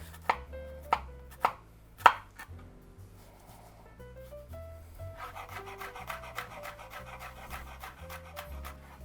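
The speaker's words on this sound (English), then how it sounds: "going to mash it with my hand" Garlic being mashed with a knife on a cutting board: four sharp thuds at the start, followed by a steady scraping, rubbing noise against the board, fairly quiet and without talk.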